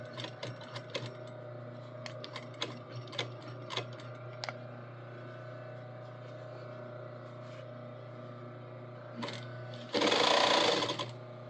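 A sewing machine sews a quarter-inch seam on an apron, steady motor hum with light ticking clicks, then a louder burst of stitching near the end, no voices.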